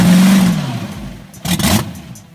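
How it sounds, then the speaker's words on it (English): An old drag racing car engine revs hard, a loud rising roar that fades, then a second short burst of throttle close by. "Judging by the sound of the engine as well, the old car is still able to show youngsters what speed is really like."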